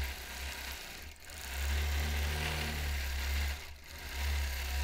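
Longarm quilting machine motor humming steadily as it stitches an edge-to-edge freehand design over bulky red and pink quilt seams, with two brief dips in the drone.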